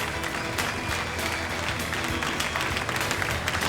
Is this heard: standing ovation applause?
yes